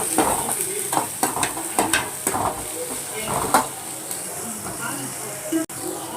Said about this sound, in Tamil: இஞ்சி பூண்டு பேஸ்ட் போடுறோம்.